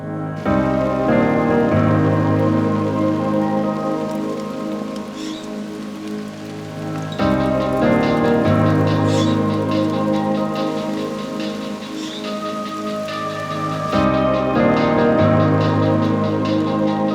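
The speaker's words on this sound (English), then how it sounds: "it's pouring rain" Heavy pouring rain drums steadily and loudly on nearby surfaces without letup, a dense continuous wash with no voices.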